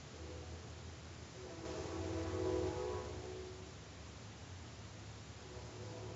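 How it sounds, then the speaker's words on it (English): A passing train rumbles with a faint, distant horn note swelling briefly and fading, heard alone against steady outdoor noise. "There's the train."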